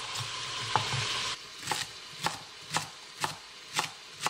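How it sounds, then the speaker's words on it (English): Washed celery being sliced on a cutting board, even knife chops landing about every half second, close and crisp, over a soft sizzle of sausages cooking in a pan nearby. "we're gonna go ahead and slice up our celery."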